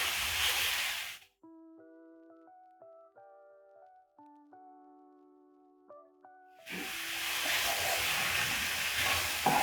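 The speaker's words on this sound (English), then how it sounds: "I'm going to add in carrots. Stir in the carrots." Carrots stirred into a pot of okra stew with red onion, a steady scraping sizzle at the start and end, broken by a stretch of music in the middle.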